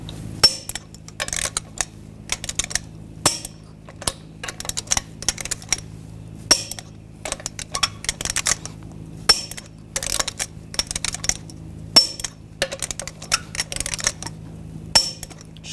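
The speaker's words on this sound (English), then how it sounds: "Now we're going to torque these lug nuts in a cross pattern to 140 foot-pounds." Torque wrench clicking as lug nuts are torqued in a cross pattern to 140 foot-pounds on a 2014-2018 GMC Sierra 1500 wheel: sharp metallic clicks at an irregular pace, close and fairly loud, with no talking.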